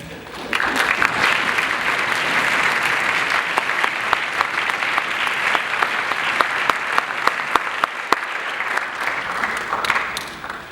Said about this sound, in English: I really think they deserve a tremendous round of applause.